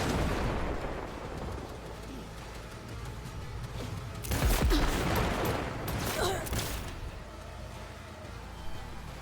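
Turret gunfire in Cyberpunk 2077: a dense burst of rapid shots swells loud around the middle, with a second volley after it, over steady game ambience.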